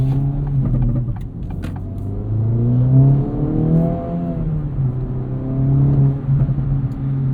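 A 2024 Acura Integra Type S in Sport Plus mode revs its engine up and down near 3,500 RPM, a loud, close, rising and falling drone with a few sharp exhaust pops and burbles early on.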